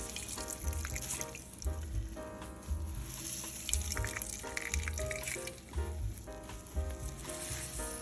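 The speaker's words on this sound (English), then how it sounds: "just to strain the water, because it's too much" Cooked zucchini being strained, with excess water pouring off in a steady, continuous splashing rush that fills the whole stretch, while a low rhythmic thumping runs underneath.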